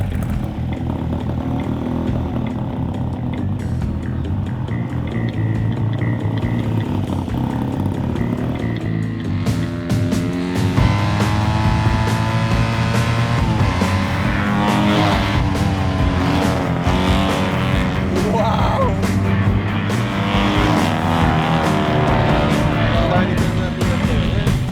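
A Fiat 500 fitted with an 800 cc engine and a sequential gearbox runs hard around a kart track, its engine buzzing loudly and continuously as the revs rise and fall through the gears.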